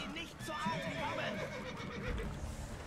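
A horse neighs and whinnies in the video game The Witcher 3: Blood and Wine, with hoof clip-clops and someone talking over it.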